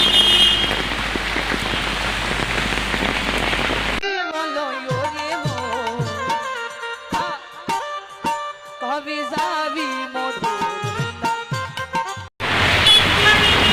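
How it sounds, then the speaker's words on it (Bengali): Steady rain falls at night in Gulshan, Dhaka, a dense hiss that opens and closes the stretch, while the middle is taken over by music with sharp percussive hits. "রাতে 10টা বাজে এখনো বৃষ্টি থামার নাম নেই।"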